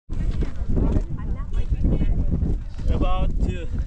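Strong wind buffets the microphone outdoors at the Gobustan mud volcanoes in Azerbaijan, a loud, continuous rumble that runs unbroken and partly masks a person speaking.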